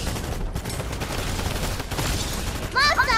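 Rapid bursts of weapon fire in a Fortnite match, dense and continuous over game sounds, with a voice speaking throughout.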